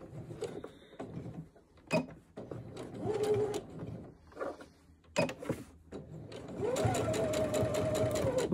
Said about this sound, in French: je pique à 1 mm du bord